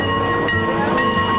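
A Mount Rainier Scenic Railroad train runs along the rails, close and loud, with a steady rumbling roll and wheel clatter.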